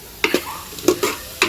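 Vegetables for fried rice, including cabbage and spring onion, are stirred in a hot pan, giving several quick scraping strokes over a soft sizzle, close and fairly loud, with no talking.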